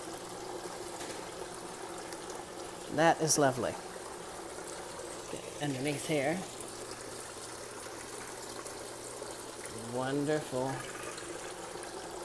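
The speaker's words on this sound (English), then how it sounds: "I got the fountain working" Water trickling steadily from a small fountain at a train station on a model railway layout, a soft continuous splash with someone speaking over it in short bursts.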